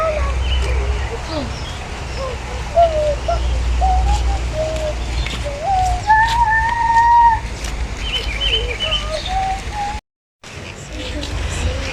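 Birds at Monte Casino Bird Garden call repeatedly over a low outdoor rumble: soft dove coos, chirps and a few longer whistled notes, some near and some farther off, with a brief dropout near the end.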